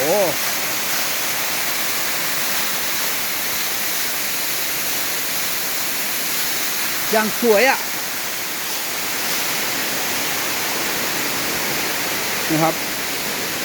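Steady broadband rush of a natural waterfall in Karen State near the Thai border, a constant roar throughout, with brief bursts of a man's speech over it.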